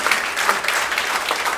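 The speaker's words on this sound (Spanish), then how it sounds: "Denle un aplauso al Cristo que vive." A congregation applauds during a church sermon, dense overlapping claps forming a loud, steady roar that holds for the whole short stretch.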